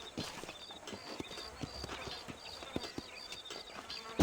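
Horse hooves clip-clop steadily on the ground in the Western video game Red Dead Redemption, a brisk walking rhythm of close, distinct hoof strikes with soft ambient background.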